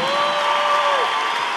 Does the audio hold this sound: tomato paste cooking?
no